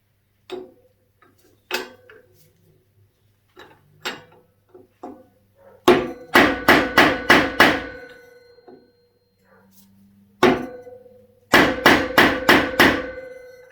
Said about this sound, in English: It just needs a few more good whacks, I think.